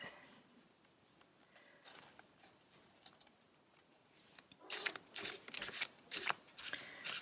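Tarot cards being shuffled, faint riffling at first, then a run of louder crisp bursts of flicking and slapping near the end.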